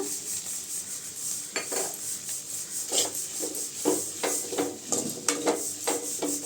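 A spoon scrapes and clatters around a pan while ridge gourd stir-fry with coconut is stirred, giving repeated close metallic scrapes over a faint sizzle, with no talk.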